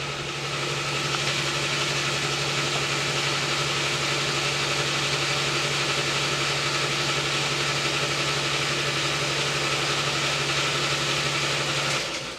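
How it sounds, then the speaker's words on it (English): An air compressor runs continuously nearby in a workshop where a 1986 Honda TRX350 carburetor is being cleaned, a loud steady mechanical hum that cuts off near the end. "sorry about the compressor in the background, let me go cut that off."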